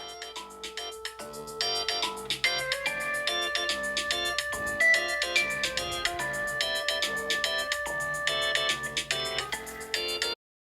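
A loud melodic smartphone ringtone for an incoming call, tested through a Garmin EPIX 2 smartwatch, plays continuously for about ten seconds with a busy repeating tune, then stops abruptly.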